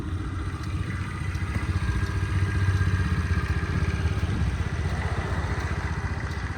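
A Honda Dio AF-62 carburettor scooter engine idles steadily with a low, even, pulsing putter, close by and running smoothly with no voices.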